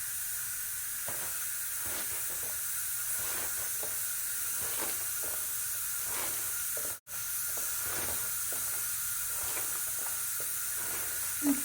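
Continuous hissing bubble of a pot of water at a boil, with faint irregular pops and crackles throughout, briefly cutting out midway.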